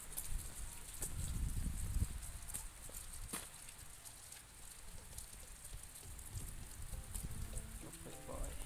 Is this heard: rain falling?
yes